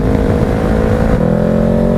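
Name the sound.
Honda CBR500R motorcycle engine braking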